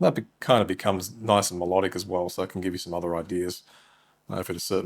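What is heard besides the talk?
No distinct noise like a dog, phone or traffic.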